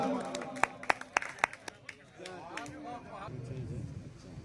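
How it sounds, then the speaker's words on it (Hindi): Audience at an Urs poetry gathering in Banswara claps in a short burst of sharp, distinct claps and then tapers off, while someone speaks over the end. "जोरदार तालियों से।"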